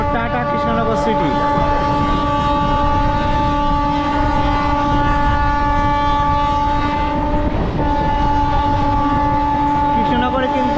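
Passenger train pulling away from Krishnanagar City station towards Amghata, bound for Mayapur, with a steady loud rumble of wheels and engine throughout and a brief horn near the start, heard from on board.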